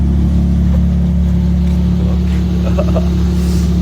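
A Lexus SC300 on two-way coilovers with aggressive front camber, its engine giving a steady, loud drone from inside the moving car.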